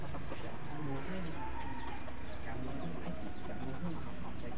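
A jungle fowl rooster crows outdoors amid steady background noise, faint to moderate and somewhat distant, with other bird calls and a voice talking over the scene.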